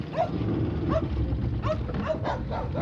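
A small dog yelps and whimpers in several sharp, high cries spread across a few seconds after its leash is stepped on, close by, over steady background noise.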